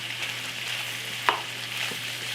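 Kielbasa and sliced baby bella mushrooms being stirred in a hot pan give off a soft, steady sizzle, with a single light scrape of the utensil partway through.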